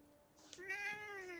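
A cat gives a single short meow in the video game Forspoken, a rising then falling cry that is clear but soft, heard alone.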